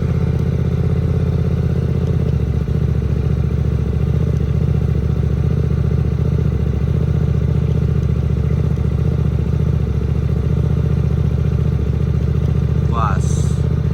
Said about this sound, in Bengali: বাইকটা চলছে